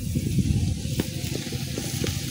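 Turmeric powder goes into hot oil with lightly fried onion paste for a pabda fish curry. A close, steady sizzle runs throughout, broken by a few faint clicks and scrapes, with no one talking.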